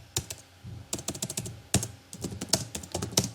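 Fast, uneven keystrokes on a computer keyboard while code is typed, clicking in close bursts with short pauses between runs of keys.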